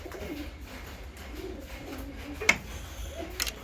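Pigeons in a breeding loft, including a Rampuri pair, give soft low coos in several rounded phrases, with a sharp click near the middle and faint ticks at the end.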